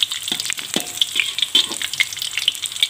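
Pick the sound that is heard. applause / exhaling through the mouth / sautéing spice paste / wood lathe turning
sautéing spice paste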